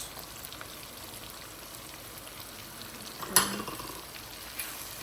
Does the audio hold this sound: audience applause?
no